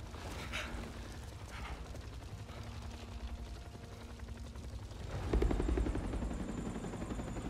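A green helicopter in the Spider-Man 2 video game makes a steady, rapidly pulsing rotor drone throughout, growing louder and fuller near the end, with faint thumps and clatter mixed in.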